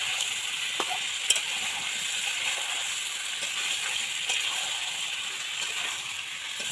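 Meat for Bengali kosha mangsho sautéing in a pan during Sunday home cooking, giving a steady, close frying sizzle throughout with a few faint clicks and no voices.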